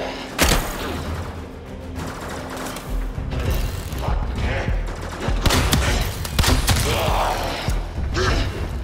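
Rapid bursts of primary-weapon gunfire in the video game Warframe, loud and continuous with repeated volleys, thuds and mechanical clatter layered over a dense game soundtrack.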